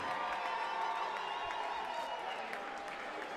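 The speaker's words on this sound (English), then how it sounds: "Ladies and gentlemen, a round of applause, please, for both of the boxers in this ring." Arena crowd at a women's professional boxing title bout applauds and cheers for both fighters in the ring, a steady dense roar of clapping with scattered whoops and a voice faintly underneath.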